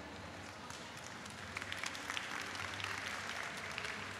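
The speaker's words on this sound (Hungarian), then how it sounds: "És én egy nagy tapsot kérek szépen." An audience at a cosplay contest awards ceremony in Budapest applauds, a continuous faint wash of clapping from a crowd that grows slightly denser partway through.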